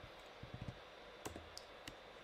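Sparse keyboard keystrokes, a short run of quick light clicks followed by a few isolated taps, faint and close against a steady background hiss.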